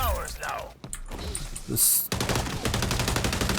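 Gunfire in the video game XDefiant, rapid automatic bursts with thumps and impacts, loud and close, starting after a quieter passage with someone talking in the game.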